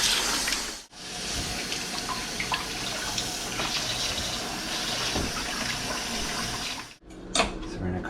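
Tap water runs steadily into a kitchen sink as vegetables are washed for chicken pad see ew, a continuous close splashing gush with short breaks where the flow is interrupted.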